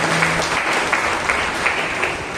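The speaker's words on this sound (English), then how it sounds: "Let's give a mighty clap to Jesus." A church prayer-meeting congregation gives a mighty round of clapping for Jesus, loud and continuous, with a few sharper claps standing out from the steady wash of hands.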